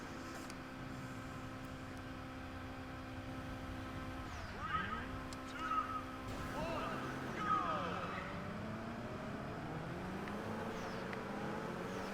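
Race cars drive in the video game Test Drive Unlimited Platinum. Engine notes hold steady, then rise and fall through gear shifts near the middle. Faint tire noise comes from the cars, and the sound stays moderately quiet throughout.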